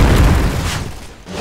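A grenade blast goes off in the shooter game Point Blank, a loud low boom with a decaying rumble that fades over about a second, heard alone without talk.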